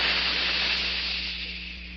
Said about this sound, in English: That jet of fresh, pure moisture